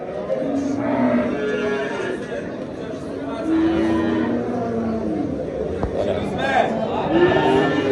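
Several low moos from a small cow sound one after another amid a noisy crowd at a livestock market, with people chatting throughout.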